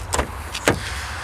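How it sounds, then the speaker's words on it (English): Two quick mechanical clunks of a 2018 Hyundai Tucson's door locks releasing after a key fob press, sharp and close against a quiet background. "I'm going to unlock all the doors by pressing this button twice"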